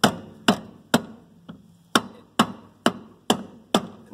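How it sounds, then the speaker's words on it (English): A rubber mallet taps a new front suspension bushing into place on a 1985 Mercedes 300CD, nine sharp, evenly spaced knocks at close range with short decays, roughly two per second, and no talking. "Just take a rubber mallet."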